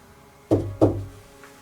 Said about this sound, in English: I know I heard a knock of some sort then.